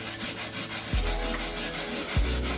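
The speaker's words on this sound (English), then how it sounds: "taking my medium texture brush and just going ahead and scrubbing this nice small" Medium texture brush scrubbing a small surface of a New Balance 740 sneaker, quick close rhythmic bristle scratching, fairly quiet, with no talking.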